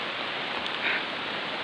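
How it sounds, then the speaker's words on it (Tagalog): A heavy downpour falls during an outdoor jog, forming a continuous steady hiss of rain with a faint brief swell near the middle. "lakas ng ulan."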